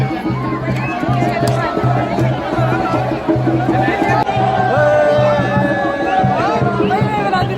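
A dense, packed crowd at the Khairaling Mahadev fair, a steady close babble of many voices with a low drone running underneath throughout.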